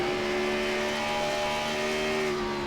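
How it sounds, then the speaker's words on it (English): A race car engine roars loud and close at an ARCA Menards 100 race, its steady high whine dipping briefly and surging back near the end as the throttle lifts and reopens, with no talking. "you hear him kind of have to lift out of the throttle and get back into it very quickly"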